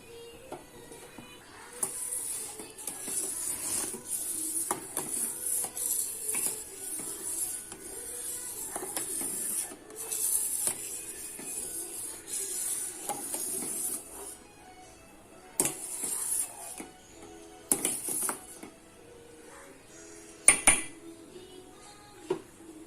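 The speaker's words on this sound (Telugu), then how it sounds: "దీన్ని ఇప్పుడు మిక్స్ చేసుకోవాలి లో ఫ్లేమ్లో పెట్టి మరిగించుకోవాలి మేగడ కట్టకుండా" Milk boils on a low flame while a spoon stirs the pot, giving repeated scraping and clinking strokes against the metal, close and uneven, with a few sharper knocks near the end.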